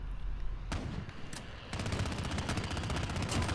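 DMR rifle in Call of Duty Modern Warfare gameplay, a few sharp isolated shots followed by a rapid dense stream of crackling gunfire, fairly quiet and distant-sounding.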